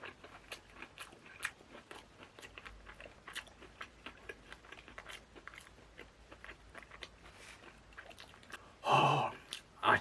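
Someone bites into a Mom's Touch chicken burger and chews, giving faint, close, irregular crunchy bites and wet mastication sounds, ending with a short louder rustle or breath.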